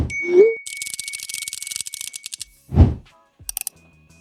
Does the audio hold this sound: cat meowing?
no